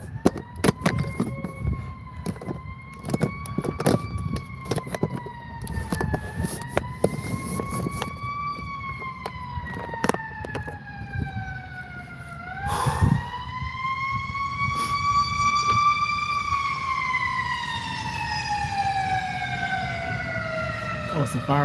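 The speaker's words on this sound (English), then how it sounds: "Oh, it's a fire truck." A fire truck siren wails on a hot day, its rising and falling tone passing steadily over traffic noise, with a blast of horn midway and the siren continuing afterward.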